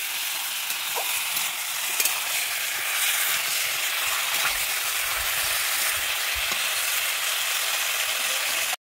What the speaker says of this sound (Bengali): আমি এইভাবে মাংসটাকে ভেজে নিচ্ছি।